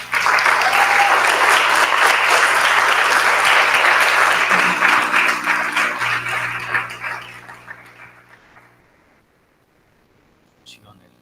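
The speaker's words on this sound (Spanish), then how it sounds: "Damos entonces un gran aplauso" Audience applause at a university licentiate seminar, a loud, dense wash of clapping that holds steady for several seconds, then thins and fades out to near silence, with a faint voice at the end.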